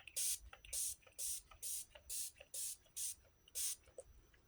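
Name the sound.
Ulta Beauty Moisture Primer face spray being sprayed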